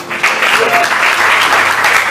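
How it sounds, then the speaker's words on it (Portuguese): A church congregation applauds after a sermon, a loud, continuous roar of many hands clapping close by with no voices over it. "Vamos aplaudir a palavra do Senhor"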